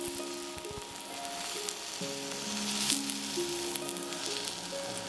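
Kebab meat sizzles steadily on a hot grill, a constant crackling hiss with small pops, fairly soft and close, with no voices.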